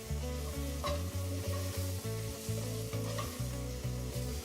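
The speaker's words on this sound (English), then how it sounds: "I'm going to let the flour cook for about 30 seconds longer to really cook out that floury taste." Flour cooks and sizzles in a copper pan with a steady frying hiss and occasional stirring scrapes, largely under a loud, rhythmic music bed, with no talking.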